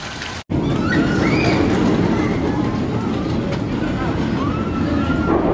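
A Vekoma suspended roller coaster, Dreamcatcher, at Bobbejaanland in Lichtaart, Belgium, rattling and rumbling continuously on its track with loud, close wind and mechanical noise after a brief dropout at the start.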